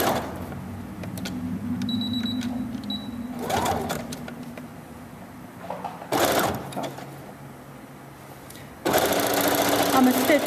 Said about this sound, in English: I'm going to stitch this at 1/4.